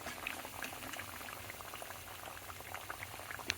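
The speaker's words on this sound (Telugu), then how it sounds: "మీడియం ఫ్లేమ్లో నెమ్మదిగా వేగితే" Ingredients for a khajoor sweet dish frying slowly over a medium flame, giving a steady low sizzle and gentle bubbling with a few small pops, faint and continuous.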